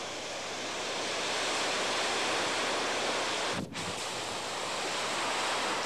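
Heavy Pacific surf pounds a black sand beach where lava meets the ocean, a continuous loud roar of breaking waves with a brief dip midway, no voices.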